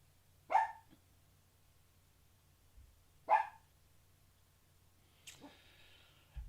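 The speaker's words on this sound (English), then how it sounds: "That's what happens when you have a little dog." A little dog barks sharply twice, about three seconds apart, followed by a softer yip, close by in an otherwise quiet room.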